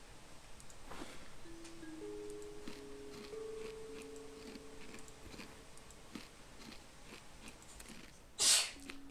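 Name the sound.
sneeze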